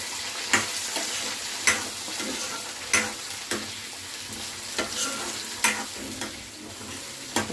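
Chopped mango frying in a pan with mustard for mango dal, a steady hiss of sizzling oil broken by periodic sharp scrapes and clinks of a spoon stirring, close and without talk.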